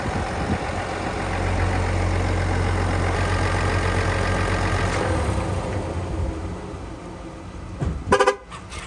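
A Duramax 3.0 diesel engine idles steadily with a low, even rumble that then cuts off, followed by a short burst of clicking near the end.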